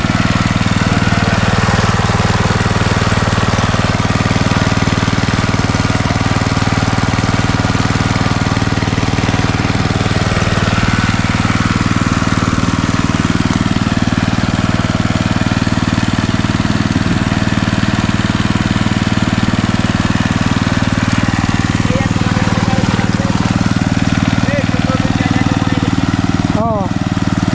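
A water pump engine pulling water and sand from a spring runs in a loud, continuous, steady drone from start to finish.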